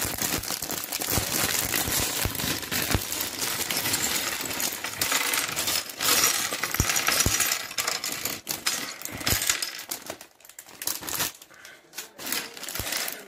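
Small plastic Lego pieces from a numbered bag for a Star Wars Resistance Transport Pod set rattle and clatter as they are poured out, a dense, continuous near jangle with crinkling that thins out toward the end.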